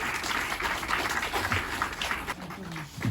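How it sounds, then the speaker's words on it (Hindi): An audience at a Disability Day event at an eye institute claps continuously, a dense, somewhat distant wash of applause with faint voices mixed in underneath. "तालियां बजती रहनी चाहिए।"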